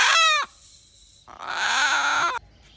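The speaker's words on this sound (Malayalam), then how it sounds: "ഇത് മുള്ളം കോഴിയാണ്. ഇതിൻ്റെ ഒരു പൂവൻ കോഴിയെ കിട്ടി." A Mullam breed rooster calls loudly at close range, first a short harsh cluck and then a longer strained crowing call, with quiet gaps between them.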